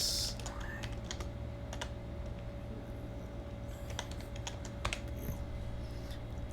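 Computer keyboard keys clatter in short, irregular bursts as text is entered, distinct clicks heard over a constant background hum.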